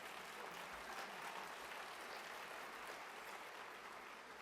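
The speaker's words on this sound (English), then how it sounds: "Can you give a round of applause?" Steady, even applause from a luncheon audience at a women's financial empowerment fundraiser, a dense wash of many hands clapping at constant level throughout with no gaps.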